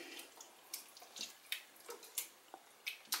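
Thick homemade marinara sauce being stirred in a pot, faint close wet squelches and soft splats recurring in an uneven rhythm, no voices.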